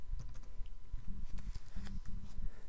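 Quiet computer keyboard typing during After Effects work: a short run of light, quick key clicks at a close distance, with no talking.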